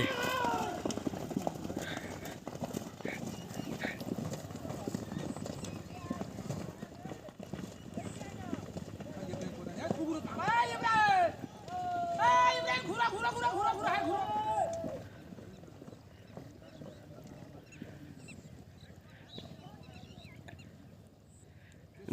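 Horses gallop in a village horse race on a field, hooves clattering amid a noisy crowd with loud shouting and an excited commentator talking throughout.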